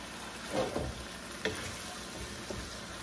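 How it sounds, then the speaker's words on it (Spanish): Diced ham sizzling in sofrito in a pot for arroz con gandules, a steady loud frying hiss with occasional stirring scrapes and bumps close by. "Y lo vamos a seguir sofriendo."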